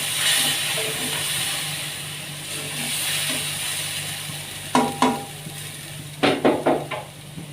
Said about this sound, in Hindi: और अब मसाले को अच्छी तरीके से हम भून लेंगे